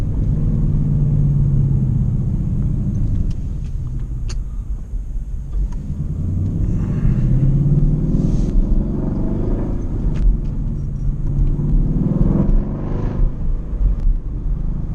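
A 2016 Ford Mustang GT with loud exhaust cruising and accelerating, a deep rumbling V8 burble that swells and falls with throttle, heard from inside the car, continuous and loud with no talk.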